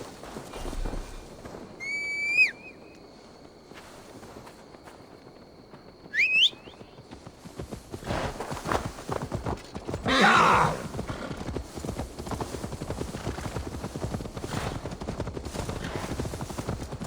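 A horse in Assassin's Creed Valhalla gives two sharp whinnies early on, followed by hoof clatter and a rising rush of movement noise that continues to the end.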